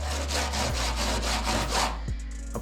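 A Scotch-Brite pad soaked with Goo Gone scrubs adhesive off a panel being prepped for spray paint, making a steady series of close, rhythmic rasping strokes that stop shortly before the end over a low background hum.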